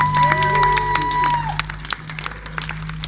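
A crowd at an outdoor political rally against the suspension of democracy claps and cheers, with dense applause, a brief sustained whistle-like tone early on, and clapping thinning to scattered hand claps.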